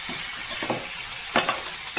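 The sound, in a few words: boiled vegetables being stir-fried in a pan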